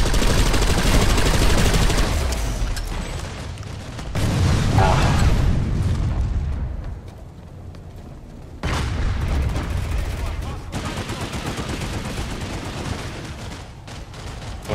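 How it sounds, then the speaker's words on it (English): Gunfire and booms from a firefight in the online shooter Planetside 2, including sniper shots: loud, sustained bursts of shots and blasts that ease off briefly and then resume, with a voice talking over them. "there's a fucking sniper shooting at you"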